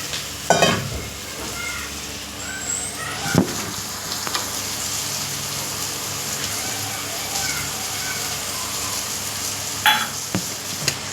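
Paneer pieces go into a hot pan for chilli paneer, setting off a steady close sizzle of frying, with a few sharp utensil knocks and scrapes of stirring scattered through.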